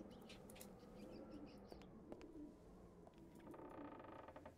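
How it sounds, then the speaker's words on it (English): Pigeons cooing in the Secret Files 2 adventure game, soft repeated coos mixed with chirping birds over a steady ambient background, faint and continuous. "I can hear pigeons as well."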